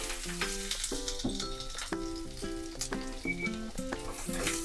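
Sizzling and crackling of ginger and garlic frying with cumin and whole spices in a hot pan, continuous and close, with musical notes playing over it.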